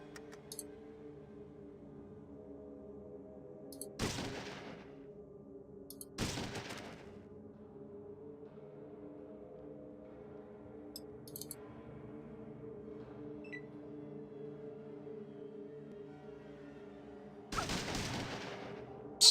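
Several sharp gunshot bursts from a companion in Fallout 2, spaced seconds apart over a steady low hum, loud and close, with no talking.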